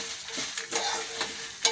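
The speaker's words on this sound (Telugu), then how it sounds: "చిన్న మంట మీద బాగా ఫ్రై చేసుకోవాలి." Red chillies dry-frying on a low flame, a soft steady crackle with a few brief scraping stirs, close and moderately quiet with no voices.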